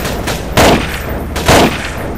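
Two loud bursts of gunfire from the Half-Life 2 mod 1187, each a short broadband blast about a second apart over a steady game background, with no talk.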